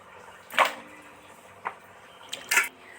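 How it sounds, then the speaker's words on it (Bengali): Potatoes are cut into pieces with a knife, giving a few sharp, wet chopping sounds spaced apart over quiet background. "আলুগুলো ঠিক এইভাবে টুকরো করে কেটে নেব"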